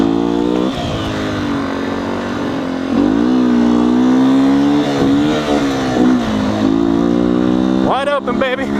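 Loud, sustained engine drone of a 2019 Beta 125 RR S dirt bike held at wide open throttle, pitch rising and dipping through the run with a sharp rev flare near the end; a voice talks over it.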